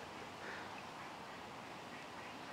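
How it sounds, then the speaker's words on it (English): Ducks quack faintly on a carp fishing lake, a few soft calls buried in steady broadband wind and water noise. "how many ducks are in the swim?"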